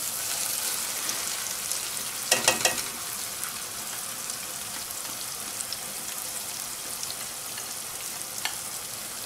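Spinach puree stirred into chickpeas frying in a pan, giving a steady close sizzle with a few sharp clatters of stirring near the start and one more toward the end.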